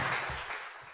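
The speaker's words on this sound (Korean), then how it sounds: "박수 부탁드립니다." Live studio audience applauding on a talk show, a short, dense burst of clapping that fades within a second.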